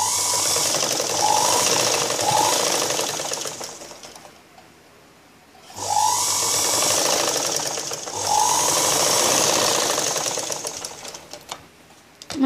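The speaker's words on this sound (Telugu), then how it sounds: "మనకి షేప్ పట్టి ఎప్పుడు కూడా టూ టైమ్స్ ఈ విధంగా స్టిచ్చింగ్ చేసుకోవాలి." A sewing machine stitches darts on a blouse in two long runs of rapid, even mechanical clatter, separated by a brief pause. Each run starts abruptly and winds down at its end.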